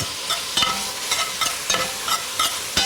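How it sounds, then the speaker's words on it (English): Chopped pickle pork browns in a pot for New Orleans red beans and rice, giving a close, steady sizzle broken by regular scraping stirs. "the pickle pork. Kind of let that brown off a little bit."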